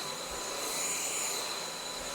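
Cordless vacuum cleaner on setting 2 running over a rug, a steady, loud, broadband whooshing drone with a faint high whine, unchanging for the whole moment with no talking.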